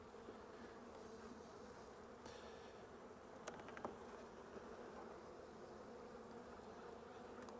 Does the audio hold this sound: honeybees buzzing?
yes